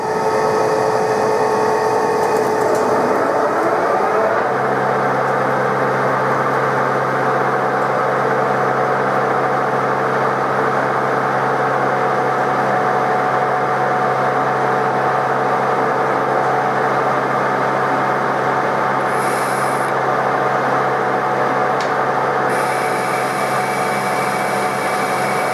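A TOS SN63B lathe turning a steel wheel hub hums and whirs steadily, a continuous mechanical drone with a tonal cutting whine, punctuated late by brief high-pitched squeals.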